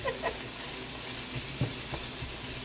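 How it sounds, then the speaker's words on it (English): A steady, close sizzle of chicken pieces frying in a pan for a stir fry, with a few soft clicks of stirring over the constant hiss. "I have some chicken just frying up in there."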